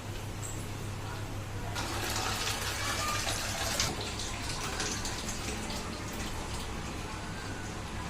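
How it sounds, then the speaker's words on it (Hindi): Water poured out of a cooking pot after cooking in a home kitchen, a steady gushing splash that swells midway and runs continuously, close and fairly loud over a low hum. "अब मैं इसको पानी को"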